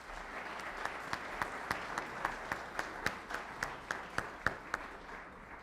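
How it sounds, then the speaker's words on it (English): Steady applause from an audience at a National Honor Society and scholarship award ceremony, a soft, distant wash of clapping marked by a regular run of sharper individual claps. "let's have another round of applause"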